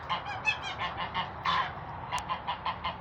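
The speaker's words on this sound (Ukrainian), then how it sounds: "Вирішив засняти коротеньке відео про гусей качок." Geese honk on a farm on a cold February morning, a dense, continuous chorus of overlapping nasal calls from a flock close by.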